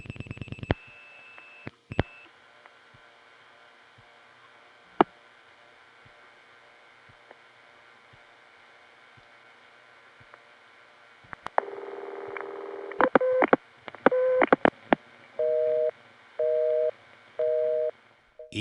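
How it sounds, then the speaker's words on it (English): A telephone line on a No. 1 ESS exchange clicks and beeps, then drops to a busy signal, a steady pattern of evenly spaced tone bursts with short gaps between them. "it's going to cut us off to a busy signal"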